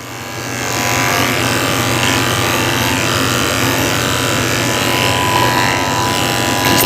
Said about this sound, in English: I'm going to finish shaving his head and around his neck with a 3 blade.